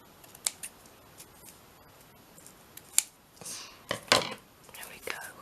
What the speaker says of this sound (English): I think I will cut these a little bit shorter.